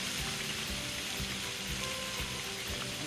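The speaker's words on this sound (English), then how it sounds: "my steaks are cooking" Steaks frying in a pan, a steady broadband sizzle with crackling pops holding level and close throughout, no voices.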